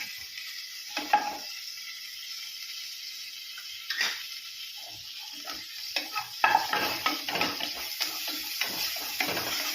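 Cumin seeds sizzling in hot oil in a pan for samai rice kichadi: a fine hissing crackle with intermittent utensil clinks and scrapes that grow busier toward the end, with no talk.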